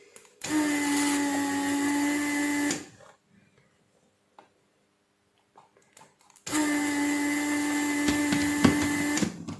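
A desoldering station's vacuum pump sucks solder off a board, two loud steady buzzing runs of a couple of seconds each, separated by a near-silent pause.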